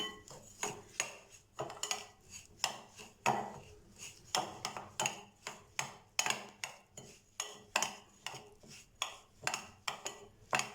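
Yogurt for pakora batter being whisked in a bowl, a long run of quick, light clinks and taps from a spoon against the bowl, fairly faint and close, repeating in an uneven but steady beat.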